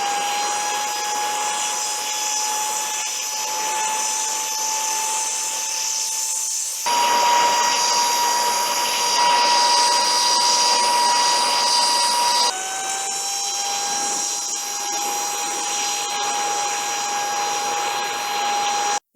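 STIHL KMA 120R battery Kombi power unit running with an attachment fitted gives a loud, steady electric whine, close up, and shifts pitch twice as the speed changes, with no talking over it.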